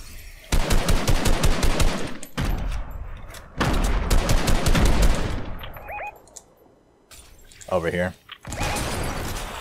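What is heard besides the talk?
grenade launcher fire and explosions in video game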